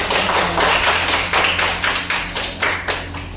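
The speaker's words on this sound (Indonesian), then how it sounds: "Tepuk tangan untuk saudara." An audience at an Indonesian talk or seminar claps in a brief burst of uneven, fairly close hand claps with a rhythmic pulsing, with no talking over it.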